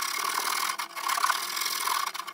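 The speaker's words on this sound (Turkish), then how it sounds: "E yardımıyla şimdi bozuk kısımları düzeltmeye çalışacağız arkadaşlar." A wooden easel is shaped with a rasp, steady hand-filing strokes rubbing coarsely across the wood, loud and close, with one brief pause partway through.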